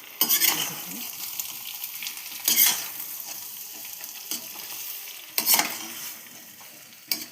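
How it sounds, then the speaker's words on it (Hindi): Potatoes with cumin sizzle quietly in a pan while a spoon scrapes and stirs them in a few separate bursts, with soft clinks in between. "फिर मैंने जीरे का छौंक लगा के आलू बना लिए"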